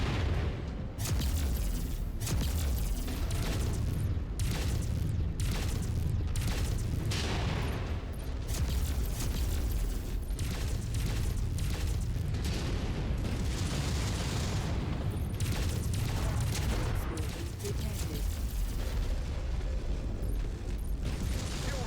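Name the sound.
explosions and missile fire in MechWarrior 5 video game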